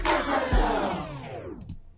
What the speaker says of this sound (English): All right, so that's what the slowdown effect would be.